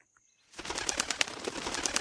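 Two large owls take off from a tall banyan tree as a horror-story sound effect. Sudden close wingbeats and flapping bursts in a dense rhythmic flurry follow a brief quiet start and continue to the end.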